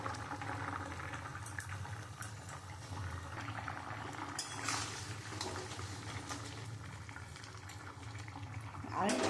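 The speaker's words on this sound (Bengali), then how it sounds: "ঝোলটা ফুটে গেছে, এবার আমি মাছগুলো দিয়ে দেবো।" Mustard fish curry gravy with potatoes bubbling steadily in a pot, a soft, continuous low simmer heard fairly quietly throughout.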